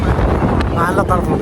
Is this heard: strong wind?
yes